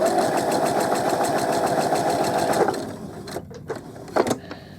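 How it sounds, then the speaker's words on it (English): A domestic sewing machine running a steady back stitch on fabric, a continuous even whirring hum for a few seconds that stops abruptly, followed by a couple of brief handling clicks. "I'm going to do a back stitch here, and then I'm going to make sure that my fabric's lined up"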